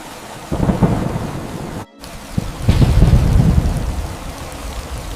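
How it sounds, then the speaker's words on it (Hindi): Heavy rain pours steadily with gusty rushing noise and low rumbling swells, briefly cutting out before the downpour returns louder. "इतना कहकर आलोक तेज बारिश और ठंडी हवाओं के बीच काम पर जाने के लिए निकल पड़ता है।"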